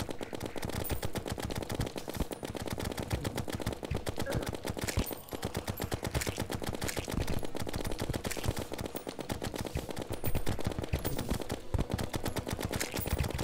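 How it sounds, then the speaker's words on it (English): Rapid, continuous gunfire from guns in the 2D sandbox game Terraria. Dense, evenly spaced shots stream without a pause, loud and up close, with no talk over them. "I'm gonna use all my bullets on this."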